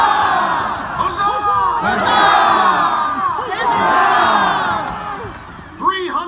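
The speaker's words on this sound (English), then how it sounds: "Cheer with me, huzzah!" A large outdoor crowd at a Boston Tea Party anniversary reenactment roars and cheers together in sustained, loud shouts of 'huzzah', swelling twice and ending with a sharp whoop.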